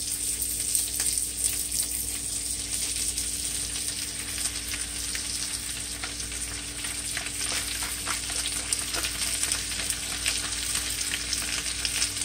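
Ackee added to onions frying in a pan gives a loud, steady, continuous sizzle with faint crackles and occasional stirring, and no voices are heard.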